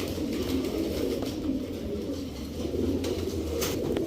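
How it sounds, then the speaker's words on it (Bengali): A pair of Afsan Bagha pigeons coos steadily, a low continuous murmur of overlapping calls close by, with no voices over it. "এই হচ্ছে আফসান বাঘা আরেকটা জোড়া, দেখেন এটা হচ্ছে নর, সাইজ দেখেন কবুতরের।"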